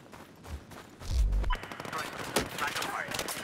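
Gunfire in a Battlefield 4 Capture the Flag match on the Propaganda map: a heavy burst of shots lands about a second in, then lighter scattered firing keeps going to the end.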